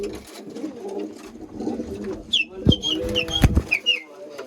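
Pigeons held in a net enclosure coo in soft, throaty bursts, several birds close by, with some shuffling and rustling around them.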